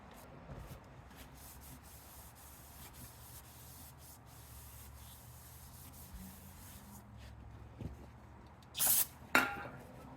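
A hand rubs and wipes a rear brake rotor on a BMW Z3, a steady close scraping swish running throughout, with a couple of sharper louder rubs near the end.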